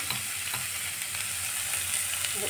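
Spice masala with tomatoes frying in a pan for a fish curry, a steady close hiss and sizzle with no voices.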